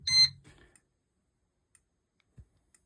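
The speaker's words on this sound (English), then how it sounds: "So it's back into alarm." An EST fire alarm horn strobe gives one short, loud burst with a harsh tonal edge, then falls quiet apart from a few faint clicks and a soft low thump.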